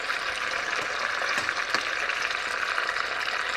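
Chicken pieces browning in the base of a pot for coq au vin inside a thermal cooker, a steady close hissing sizzle with faint pops and crackles and no talk.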